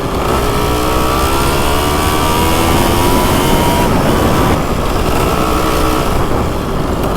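A 36-year-old MTX125R motorcycle being ridden, its engine droning steadily and loudly up close the whole way through, with harmonic tones rising and falling as the revs shift.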